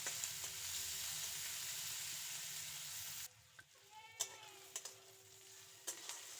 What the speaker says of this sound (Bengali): পেঁয়াজটাকে লালচে করে ভেজে নেব।